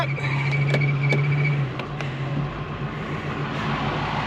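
Engine of a Range Rover Classic running after being revived, a steady low idle drone close by with a few sharp metallic clicks and knocks over it, no talk.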